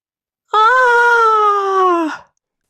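A single sustained scream rings out in the dark, loud and close, rising sharply, holding steady for well over a second, then falling away into silence.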